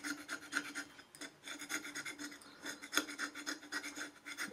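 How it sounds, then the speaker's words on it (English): Palette knife scraping dried oil paint off a palette, a series of quiet, close, raspy strokes in quick irregular rhythm. "Scraping off the dried"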